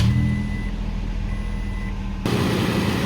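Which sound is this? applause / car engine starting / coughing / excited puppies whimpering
car engine starting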